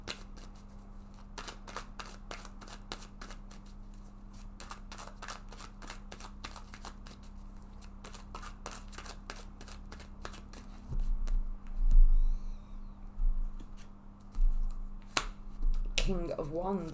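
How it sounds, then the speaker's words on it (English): Tarot cards are drawn and laid down during a reading, giving a run of soft, rapid card clicks and snaps, followed by a couple of louder, closer slaps of a card set onto the table near the end. "Let's take a card for this past position."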